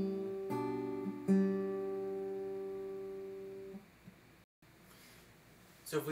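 Acoustic guitar playing the intro chords from a song, two plucked chords ringing out and slowly decaying, close and fairly quiet, with a brief gap and a faint noise at the end.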